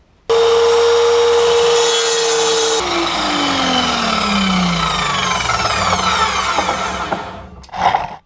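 A power saw whines loudly and steadily through wood, its pitch dropping as the blade bites in, then winding down with a brief scrape at the end.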